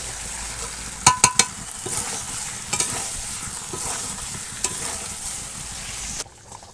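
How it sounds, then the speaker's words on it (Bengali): Meat curry with potatoes cooks in a pot over a wood fire in a village kitchen, a steady close sizzle and bubbling broken by a few sharp metallic clinks of a stirring spoon early on. "মাংস ফুটছে।"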